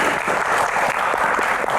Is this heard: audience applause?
yes